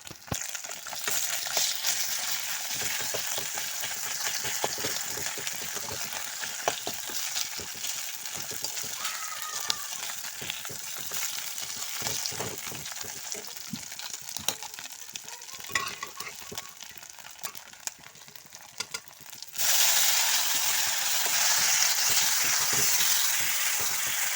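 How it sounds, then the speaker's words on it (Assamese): Fried fish pieces go into a hot wok of curry base with oil, cumin and turmeric, giving a steady close sizzle with stirring scrapes throughout, growing louder near the end. "এইফালে যিকেইটা মাছৰ মই ভাজিছোঁ এতিয়া সেইটো কেৰাহীত দি দিম"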